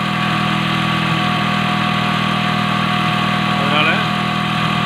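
An engine with a cold-start problem idles at high revs in a constant, loud, even drone with a steady hum, and someone talks over it.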